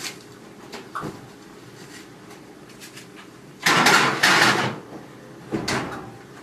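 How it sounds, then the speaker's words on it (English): A few clunks and rattles of an oven door and racks as a dish of stuffed zucchini goes in, with a louder burst of metallic banging midway and a softer knock near the end. "And then we're going to stick it in the oven."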